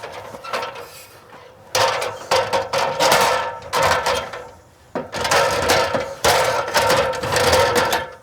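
A hydraulic lever-operated ladder clamp on a Prime Design truck rack fitted to a Toyota Tacoma works in a burst of close mechanical clunks, clicks and ratcheting knocks, pausing briefly midway before a second loud run of clattering motion.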